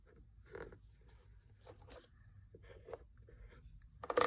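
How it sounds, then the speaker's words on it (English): Paper card stock being folded and creased by hand for a mixed-media art card craft, soft scattered rustles and crinkles with a sharper crackle at the end, close and quiet. "I turn it over, and I fold this section in half."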